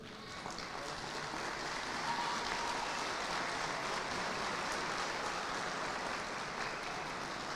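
Steady applause from a crowd at a university graduation ceremony rolls on continuously, a dense even patter heard at some distance, with no voices over it.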